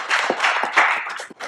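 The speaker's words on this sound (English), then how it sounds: "give yourselves a round of applause for showing up" An audience at an entrepreneurship event claps for itself, a dense, close burst of applause with scattered individual claps and no one speaking over it.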